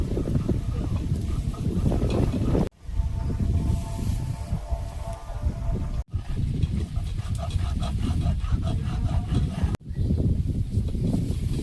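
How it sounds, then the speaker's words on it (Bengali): Loud, low wind buffets the microphone in a constant roar, broken by a few brief dropouts. "আর এখন হাওয়া বিরক্ত হচ্ছে আমার"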